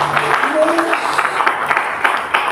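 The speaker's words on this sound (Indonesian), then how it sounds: "Tepuk tangan yang keras." Loud applause from a church congregation at a Christmas sermon, a dense continuous wash of clapping filling the space with faint voices and a brief sung or spoken tone mixed in.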